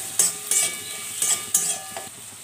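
A utensil stirs fried onion and sliced ridge gourd in a pan over a high gas flame, giving four or five quick scraping strokes over a soft, continuous sizzle with no talking.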